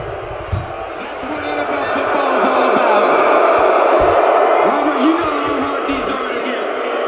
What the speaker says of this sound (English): You hear a lot of fans booing Roger Goodell right now.